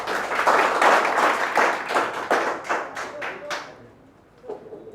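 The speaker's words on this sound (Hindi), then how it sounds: "एक बार ताली हो जाए फिर से।" A classroom group gives a round of applause, with rhythmic clapping, the individual claps distinct, fairly loud at first, then tapering off and fading into near quiet after about four seconds.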